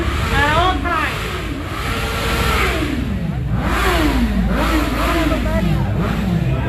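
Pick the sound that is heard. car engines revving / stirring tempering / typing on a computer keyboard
car engines revving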